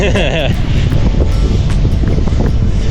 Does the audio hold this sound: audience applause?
no